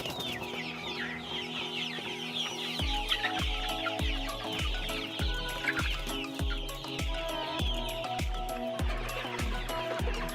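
Hens cluck continuously on a poultry farm, many birds at once forming a dense, steady chorus with a repeating low rhythmic thump running underneath.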